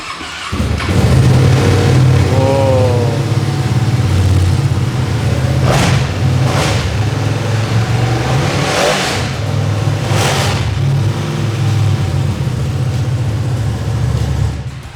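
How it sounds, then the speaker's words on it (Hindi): A Ducati Panigale V2 superbike's V-twin engine idles with a deep rumble, then blips the throttle in several sharp revs, loud and close. "ये है इस बाइक की धांसू आवाज़, V2 इंजन"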